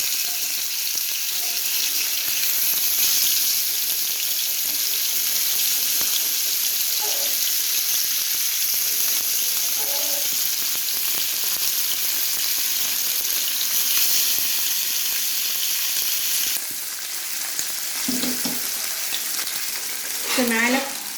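Oil heating in a pan for fish fry, with ghee added, gives a loud, steady sizzle and crackle throughout. A voice speaks briefly near the end.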